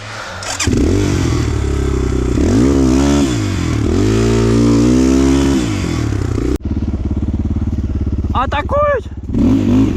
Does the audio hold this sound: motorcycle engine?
yes